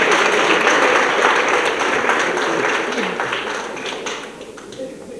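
Congregation applauding pioneering sisters and a priest at a religious ceremony, a full burst of clapping that gradually thins and fades, with some voices underneath.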